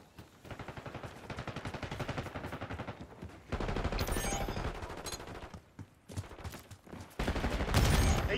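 Rapid machine-gun bursts in Call of Duty Black Ops 6, loud and close, coming in several sustained volleys separated by brief pauses, with heavier blasts toward the end.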